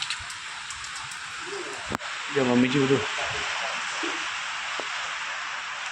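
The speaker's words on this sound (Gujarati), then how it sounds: "જોરદાર વાવાઝોડા સાથે વરસાદ ચાલુ થઈ ગયો" Heavy rain pours steadily during a storm, a continuous broadband hiss close by, with a sharp knock and brief talk in the middle.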